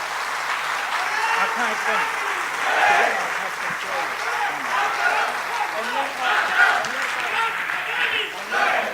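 Crowd applause at an Indian award event honoring boxer Mary Kom, continuous clapping with voices heard beneath and a host speaking over it.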